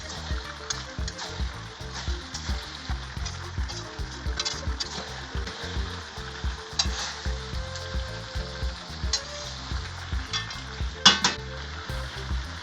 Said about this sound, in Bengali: হলুদটা এবার ভালো করে নাড়াচাড়া করে মিশিয়ে দিচ্ছি।